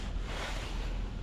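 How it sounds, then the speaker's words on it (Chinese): Strong night wind blows during a cold snap at a roadside campsite on a cycling trip through Inner Mongolia, with light rain falling; dense, steady roaring gusts buffet the microphone up close, with no voices. "这大半夜的下起了小雨，而且起大风了"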